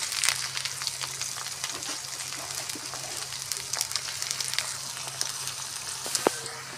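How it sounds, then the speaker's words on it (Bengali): Chopped onion frying in oil with whole spices, a continuous soft sizzle close by with scattered pops and crackles throughout, no voices. "পেঁয়াজ ভাজা হচ্ছে"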